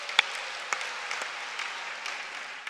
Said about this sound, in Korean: 여러분 뜨거운 박수로 한번 맞아주시기 바랍니다.